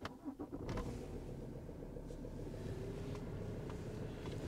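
A Volvo V40 car engine cranks briefly and fires, then settles into a steady, close idle rumble that carries on unbroken.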